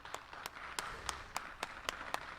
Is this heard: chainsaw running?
no